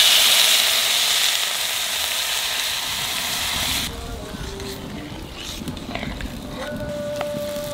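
Water poured onto frying vegetables in a pan, a loud rushing hiss for a few seconds that drops to a lower steady bubbling with small clinks.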